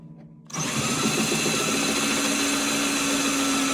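A drill with a 1/2 inch bit bores a hole to install a pickup, switching on after a short quiet start and then whirring steadily and loudly at close range with a constant pitch.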